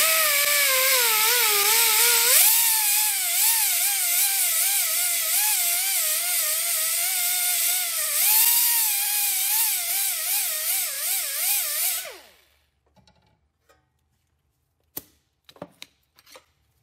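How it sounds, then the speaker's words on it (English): A cleaning disc on a power tool scrubs the face of a rear brake caliper piston on a Ford Taurus. It makes a loud, steady, high, warbling whine for about twelve seconds, then stops abruptly, leaving near silence and a few light knocks. "we need to use a cleaning disc like this to clean it off on there"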